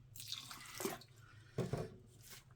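Water being added slowly in small amounts, heard as faint, soft trickles and drips in two short bursts over a low steady hum, with no voices.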